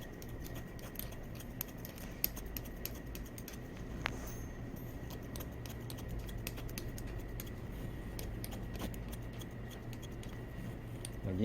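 Barber scissors snip hair on a practice wig in quick, light, close-up cuts, repeating in an irregular rhythm over a quiet room hum.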